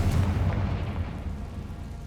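A Bombarda or Confringo spell detonates in Hogwarts Legacy, a loud, deep booming blast that rumbles and slowly fades over about two seconds, with no talk.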